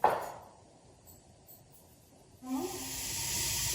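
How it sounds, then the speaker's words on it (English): A sharp hiss bursts out at first and fades, then after a pause a steady, loud sizzling of tomato sugo in a pan starts and keeps going. "It starts to sizzle more"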